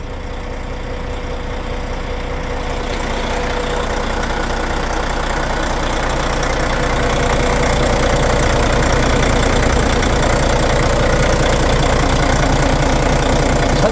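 A large diesel engine of a Kia New Granbird Silkroad coach bus idles steadily with a low knocking rumble that grows gradually louder, alone without any talking.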